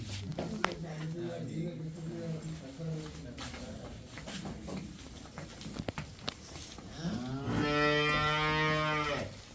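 A Jersey cow or calf lets out a long, loud moo near the end, with a few lower calls earlier and faint speech in the background.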